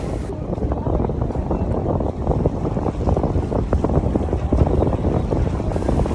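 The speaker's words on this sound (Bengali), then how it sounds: "নদীর ঢেউ অনেক ভালো লাগে নদীর শব্দ আমার ভালো লাগে" River water and waves rush in a dense, continuous low roar close by, heavily mixed with gusty wind buffeting the microphone.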